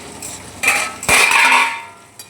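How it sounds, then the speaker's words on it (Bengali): A metal lid lifted off a cooking pot of simmering egg and potato curry, a couple of quick clinks and a scraping clatter, close and fairly loud. "তো এবারে ঢাকাটা খুলে দেখি"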